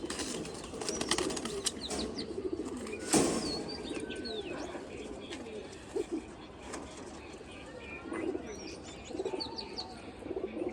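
Racing pigeons coo in soft, low repeated calls, joined by a few chirps and brief wing flaps nearby, while someone talks over them.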